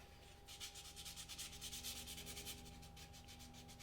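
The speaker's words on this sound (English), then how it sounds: "next I take a little bit of smaller sandpaper. I just kind of go around the edges and kind of smooth it out" Fine sandpaper rubbed around the edges of a plastic shell, producing quiet, close, rhythmic scratchy strokes in a steady back-and-forth pattern over a faint background hum.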